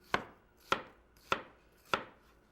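Four crisp knife chops through an onion on a cutting board, evenly spaced about half a second apart, close and clean with no talking.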